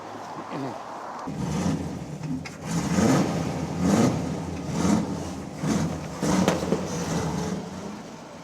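An amphibious car pulls away from a roadside with a rising, surging engine note that swells and eases in several waves, moderately loud amid traffic noise.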